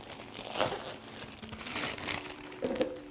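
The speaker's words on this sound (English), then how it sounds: "remove the plastic wrap from the inside pot" Plastic wrap crinkles and crackles in a few short bursts close by, with brief pauses between the handling noises.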